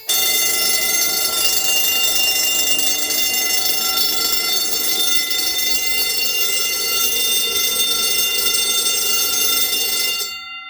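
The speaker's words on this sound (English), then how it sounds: "Classic burglar bell." A classic burglar alarm bell rings loud and continuous for about ten seconds during an alarm system test, a dense metallic ringing close by that stops abruptly at the end.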